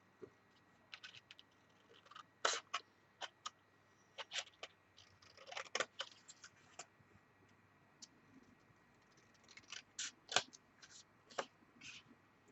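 Scissors cut out a paper journalling card with faint, scattered snips and small ticks, irregular and quiet against a near-silent room.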